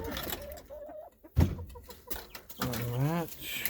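Chickens cluck and call in short, close bursts with a clatter as the coop door is dragged open, in an all-natural composting chicken corral.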